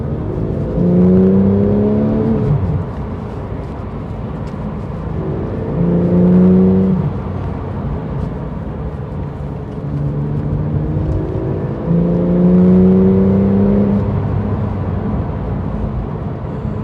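Porsche 911 991.1 GT3 with sports exhaust switched on, driven in a low gear, rises in three loud revving sweeps, its engine note climbing and falling repeatedly under steady road rumble with no talk.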